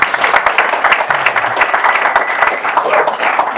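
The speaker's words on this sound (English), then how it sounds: "Can we give Caden a round of applause?" A crowd applauds steadily, dense clapping filling the room at a loud, even level throughout.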